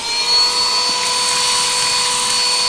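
Armor All handheld car vacuum cleaner running steadily, a loud close motor whine with a high tonal hum and airy rush that holds constant, without speech.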